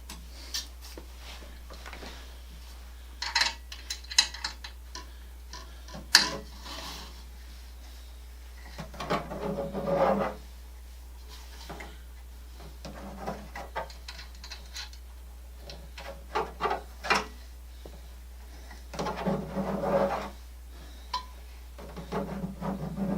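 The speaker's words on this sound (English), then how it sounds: "Hear my fingers rubbing across that plastic." Fingers rub across the plastic parts of a Vanswe exercise bike during assembly, making soft scratchy bursts and light ticks at close range over a faint steady hum, with no talk.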